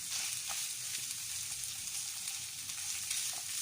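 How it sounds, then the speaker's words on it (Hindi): Boiled chicken frying in a pan, giving a soft, steady sizzle with faint occasional pops and stirring scrapes, quiet and close, with no talk. "और इसको थोड़ा सा भून कर"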